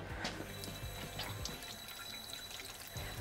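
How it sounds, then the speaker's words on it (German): Hands being washed under a running kitchen tap while preparing pizza dough, with water pouring and splashing into a sink in short bursts; fairly quiet and close, with no talking. "Und ich muss mir jetzt mal meine Hände waschen."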